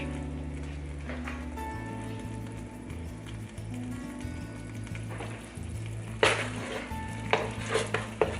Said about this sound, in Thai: start with the coconut cream and I'm going to add curry paste